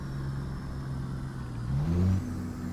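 A truck engine from a trucking simulator sound pack hums steadily at low pitch, then swells briefly as it revs higher before settling back to an even drone.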